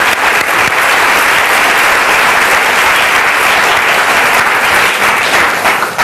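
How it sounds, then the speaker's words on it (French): Sustained, loud applause from a large audience at an evening conference on sexual diversity in schools, a dense, even wash of clapping lasting throughout with no talk over it. "Donc je vous invite à l'applaudir."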